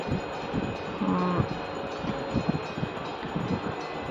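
A conch shell is blown during a home Gopal puja, giving one short, low, horn-like blast over a noisy room.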